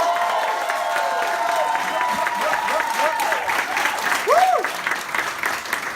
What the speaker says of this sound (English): Round of applause for all the actors as well.